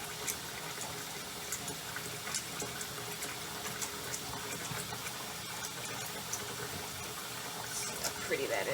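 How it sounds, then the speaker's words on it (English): Tap water runs continuously into a sink to submerge yarn, making a steady, fairly loud rushing splash throughout. "So I'll let the water run until the yarn can be fully submerged."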